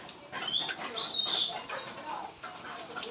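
Birds chirp in short, high bursts near a house on a rainy day, with a thin background hiss throughout and the clearest calls early on.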